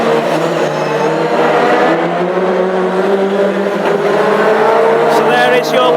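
Hot rod race cars racing at Northampton in a final, engines roaring loud and steady as the pack circulates, with a commentator talking over the noise throughout.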